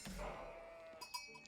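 Sheep bleat faintly in the real-time strategy game Age of Empires IV, with a few short, quiet calls near the end of the moment.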